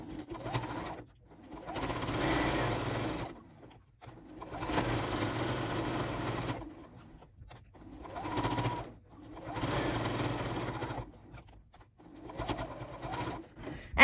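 A sewing machine stitches fabric makeup remover pads in repeated bursts of steady whirring, each lasting one to three seconds and separated by short pauses, close and moderately loud with no talking.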